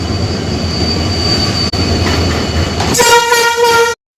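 A train pulls into Chaparmukh station with a steady rumbling roll of wheels and carriages, close and loud, then a sustained horn blares over it before the sound cuts off.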